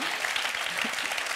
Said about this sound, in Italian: Un bel applauso alla Piovra.